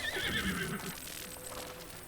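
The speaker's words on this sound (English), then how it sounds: "As my horse runs away in fear." Horse whinnying in Zelda: Breath of the Wild, a loud, close neigh at the start that fades into softer clip-clop hoofbeats as the animal runs off.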